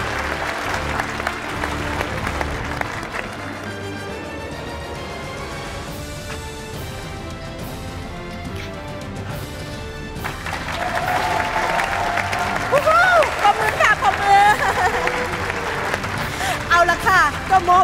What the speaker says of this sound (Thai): ปรบมือค่ะดังๆเลยนะคะ